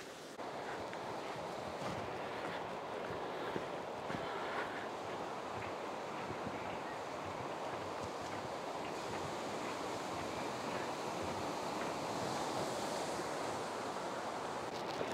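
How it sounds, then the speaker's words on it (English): Small stream at Hokitika Gorge flowing down into the valley, a steady, dense wash of rushing water with wind noise, continuous and even throughout. "you can see this little stream coming down here into the valley"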